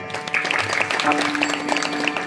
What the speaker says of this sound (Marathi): एकदा जोरदार टाळी वाजवतात